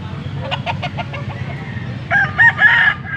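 A young rooster (stag) in a poultry market in Pampanga gives a few short clucks, then a fairly loud, close crow near the end, over a steady background of outdoor noise.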